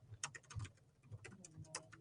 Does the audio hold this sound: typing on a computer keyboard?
yes